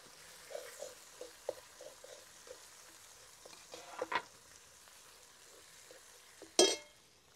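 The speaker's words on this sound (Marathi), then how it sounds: "आता वाटून घेतलेले शेंगदाणे टाकून घेऊ." Ground peanut paste with garlic and green chillies frying in a pan for a cauliflower and egg curry, a faint low sizzle with soft scattered stirring taps and one sharper clatter near the end, no voices.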